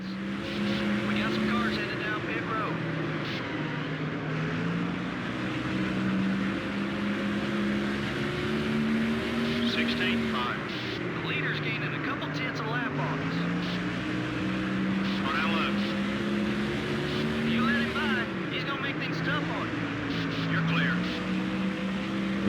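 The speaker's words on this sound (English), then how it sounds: "We got some cars headed down pit road." Race cars circling the track in the video game NASCAR Thunder 04 at Bristol, a steady loud engine drone rising and falling continuously, with some cars heading down pit road.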